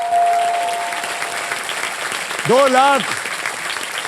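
A studio audience on the Wheel of Fortune game show bursts into loud, sustained applause. Someone speaks over the clapping, and a short rising-and-falling electronic tone sounds midway.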